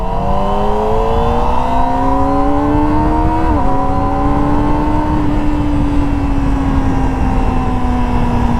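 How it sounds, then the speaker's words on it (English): A 2024 Kawasaki ZX-25R SE 250cc motorcycle screams at high revs, pitch climbing steadily, dipping briefly at a shift, then holding a loud, close, sustained whine. "Makes a lot of sound but doesn't pour because it's only a 250cc engine"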